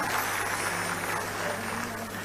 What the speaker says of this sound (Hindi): एक बार जोरदार तालियां केशव भाई के लिए बजा दीजिएगा।